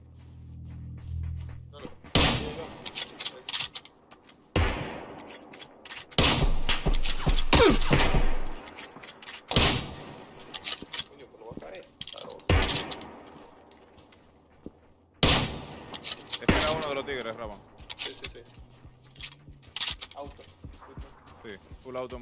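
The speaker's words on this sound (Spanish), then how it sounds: "Me escucho tiros por aquí." Bursts of rapid full-auto gunfire in PlayerUnknown's Battlegrounds, several volleys separated by quieter gaps, with clattering sounds in between.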